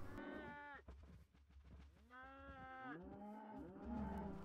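Cattle mooing in Minecraft as adult cows crowd and push each other at a farm gate: several overlapping game moos in a row, fairly close and steady, with no talk over them.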